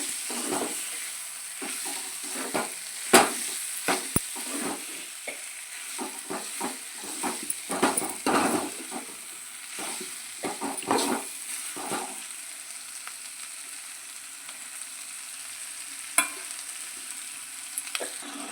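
Bitter gourd is stir-fried in a pan with a continuous soft sizzle and busy clattering spatula strokes that come in quick irregular bursts, then ease into quieter frying with only an occasional scrape.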